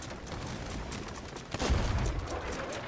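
Cannon fire in a naval tank battle game on the Hourglass map, a burst of heavy booming shots about halfway through over steady game noise, with faint voices.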